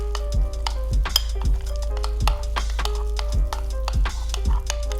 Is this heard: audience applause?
no